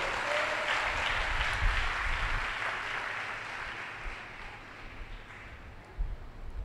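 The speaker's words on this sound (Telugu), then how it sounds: "కొట్టు చప్పట్లు ఒకసారి." A church congregation claps together in a sustained, even wash of applause that carries through the whole stretch and fades slightly toward the end, with no voices over it.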